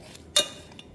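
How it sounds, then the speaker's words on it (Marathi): A spoon knocks once against a bowl while mashing a mixture, a single close clink followed by a faint tap, with no talk. "एकजीव चमच्याने सगळ्या बाजूने असं छान असं त्याला स्मॅश करायचं"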